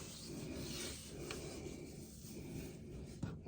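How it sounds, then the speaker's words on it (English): Body scrub rubbed up and down along a bare arm, a steady soft rasping swish that runs continuously and close, with one brief sharper scrape near the end. "I'm going to gently just rub it all up and down."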